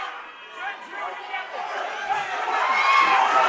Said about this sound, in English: The crowd is absolutely deafening in here at the Mansfield Tavern.